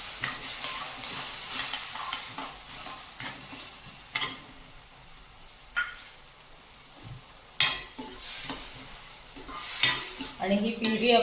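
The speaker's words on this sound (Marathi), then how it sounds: "ही प्युरी आपण त्याला तेल सुटेपर्यंत आता ही परतावी लागणार आपल्याला" Tomato puree being sautéed in hot oil for rajma masala, a pahadi-style kidney bean curry: soft sizzling under repeated scraping and clinking of a spoon against the pan, with a few sharper metallic knocks, fairly close and without talk.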